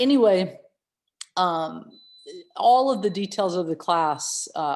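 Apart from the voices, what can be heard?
No everyday noise stands out behind the speech.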